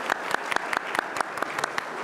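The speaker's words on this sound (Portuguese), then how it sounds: "Salva de palmas." A round of applause at a legal seminar on the judiciary and the new civil procedure code, with a few sharp, evenly spaced claps standing out over a dense, fairly close roomful of clapping.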